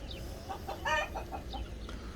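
Brahma chickens cluck close by in a poultry yard where they are eating the chicks' feed, a short run of soft, throaty clucks with one louder call in the middle.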